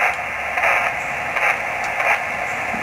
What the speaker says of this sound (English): I'm going to adjust plus or minus till I hear peak noise out of that antenna